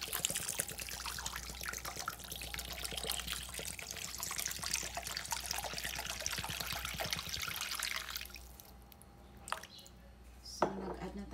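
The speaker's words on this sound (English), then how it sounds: "So, mag-a-add na tayo ng water." Water pours into a pan while cooking sotanghon noodles, a close, steady splashing trickle for about eight seconds, followed by a quieter kitchen with a couple of clinks of a utensil or pot.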